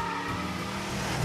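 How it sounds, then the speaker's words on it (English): A cartoon car rolls off a wagon and zooms away, a brief steady engine whoosh that swells slightly at the end, heard alone and fairly quiet. "He remembers when the car was on the wagon but moved and zoomed off of it onto the ground."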